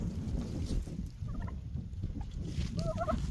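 A bronze tom turkey gobbles near a garden with sorghum and sunflowers, giving two short bursts of rapid warbling calls over a low background rumble of wind.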